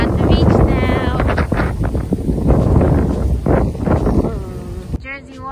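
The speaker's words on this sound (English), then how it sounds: "I'm pretty sure it's mad windy, so I don't think you guys can hear me" Strong wind buffets the microphone on a beach, a loud, ragged roar that covers nearly the whole stretch, with someone talking underneath and a short calmer moment at the end.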